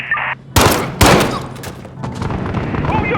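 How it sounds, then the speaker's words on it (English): Gunfire in the shooter game Modern Warfare: two loud, sharp broadband blasts about half a second apart, followed by a lower rumbling tail of scattered shots and ambient game noise. "All units, urgent assistance, shots fired."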